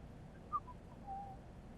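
A video game wrestling character whistles a short, thin tune in WWE SmackDown vs Raw 2011, two or three soft notes, faint and alone with no talk.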